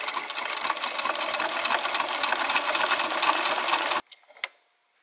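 A sewing machine runs steadily and closely, whirring as it stitches an automatic buttonhole, then stops abruptly with a few faint mechanical clicks.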